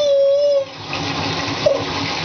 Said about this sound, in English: It's your first bath in a big bath.